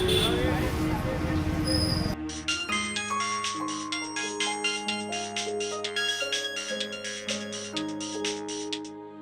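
A phone ringtone plays a bright, repeating electronic melody of clear, evenly spaced tones, loud and close, after a brief stretch of busier, muddled sound at the start.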